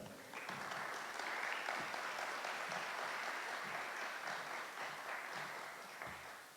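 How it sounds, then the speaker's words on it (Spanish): Audience applause welcoming a speaker at a cultural centre event in Bogotá, a steady wash of many hands clapping that holds for several seconds before easing off. "fuerte aplauso para él"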